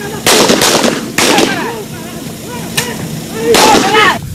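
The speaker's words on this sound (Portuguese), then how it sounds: "Foram cerca de 10 minutos de tiroteio." Gunfire in a shootout between farm security guards and an advancing landless-movement group in Brazil: several loud, sharp bursts of shots at irregular intervals, with excited voices between them.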